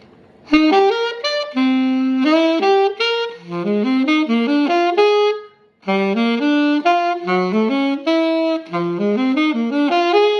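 Jazz saxophone plays a 1-6-2-5 progression with a tritone substitution as flowing melodic lines of clear notes, loud and close, with one short pause midway.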